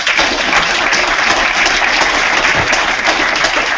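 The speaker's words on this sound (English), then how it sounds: "We'll have a round of applause." An audience claps in a dense, continuous round of applause that holds at a steady, fairly loud level from start to finish, with no talking heard above it.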